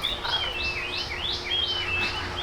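Parrots at Sunken Gardens in St. Petersburg, Florida give a run of repeated rising, sweeping calls, fairly close and clear over a soft outdoor background, with no talking.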